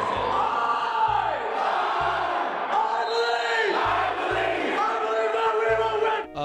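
A student cheering section, the Dog Pound, roars for its Huskies at a school basketball game: loud, continuous crowd shouting and chanting with rhythmic low thumps that come and go under the steady din.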